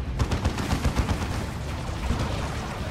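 Rapid gunfire rattles through a battle between Space Marines and Eldar in the strategy game Dawn of War 2, with dense, continuous bursts of shots and thumps, loud and close, with no speech.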